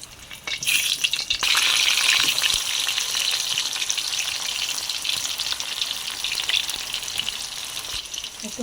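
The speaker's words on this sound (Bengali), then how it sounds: "বিরিয়ানির জন্য যে আলুটা সেদ্ধ করে রেখেছিলাম ওটাও একটু ভেজে নেবো হালকা করে।" Boiled potatoes lightly frying in hot oil for biryani, giving a bright, steady sizzle that swells loud after a soft start and holds close and even, with a few faint stirring knocks and no voices.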